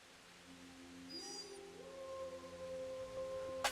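A dog howls in the medieval video game Kingdom Come Deliverance, a rising, drawn-out tonal wail that holds and wavers over a soft ambient background.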